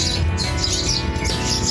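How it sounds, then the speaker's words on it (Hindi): Wild birds chirp in a small garden lawn, their bright high calls coming in repeated bursts over a loud, steady background rumble. "शहरी इंजीनियर मोहम्मद यूसुफ के घर का लॉन है, जहां नायाब नस्ल के जंगली परिंदे रोजाना खुराक खाते हैं, चहचहाते हैं, सुरीली आवाज से शुक्रिया अदा करते हैं"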